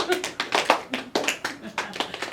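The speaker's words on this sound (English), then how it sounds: "snaps or claps, please" Audience at a poetry slam snaps and claps in scattered bursts, a quick uneven run of sharp hits through a room with murmured voices underneath.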